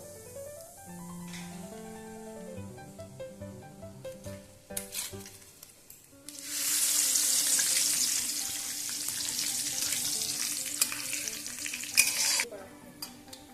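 Whole garam masala, cumin seeds and bay leaves dropped into hot mustard oil, bursting into a loud, steady close sizzle after a few knocks of the pan, with stirring scrapes throughout.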